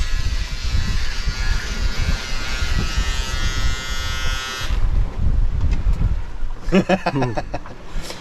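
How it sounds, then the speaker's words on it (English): An electric razor buzzes close by during a shave aboard a small sailboat crossing the Pacific, a steady droning hum over rushing wind and water that cuts off midway, followed by wind, sea noise and brief rattling knocks. "This is Luke having a shave on passage."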